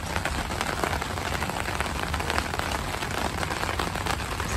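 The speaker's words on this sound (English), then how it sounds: "listening to the rain hit the top of the sukkah" Steady rain drums on the top of an outdoor sukkah in California, a dense, even patter with no break and no voices.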